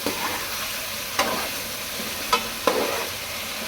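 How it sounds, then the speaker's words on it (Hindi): Food frying in a pan gives a steady, even sizzle of hot oil at close range, broken by three sharp clicks of a spoon or spatula stirring against the pan, with no voices. "इसको मैं अच्छे से फ्राई करती हूँ"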